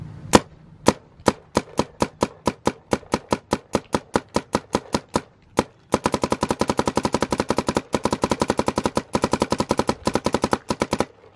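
Rapid gunfire from a gun, starting as spaced single shots and then accelerating into a fast, continuous automatic burst; loud, close and sharp, with no talking.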